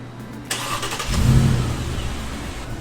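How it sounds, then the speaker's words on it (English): A Mercedes-Benz G-Wagon W463 engine is cranked by a new starter and catches, rising into a brief rev before settling into a steady idle, loud and close. "I'm gonna let y'all hear how different it sounds cranking up right now"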